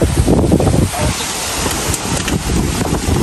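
Strong wind blasts across the shore during rain, a loud rough buffeting that rumbles against the microphone in uneven gusts throughout.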